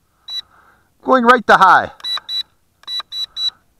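A single high electronic beep from a Syma X8C or Tarantula X6 drone transmitter, then a person speaks briefly, followed by two quick sets of three sharp, close beeps.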